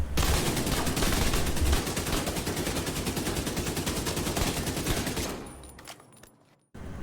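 Rapid automatic rifle fire from a FAMAS and an AK in The Division 2 rattles continuously and loudly for about five seconds, then stops into near quiet with a few faint clicks.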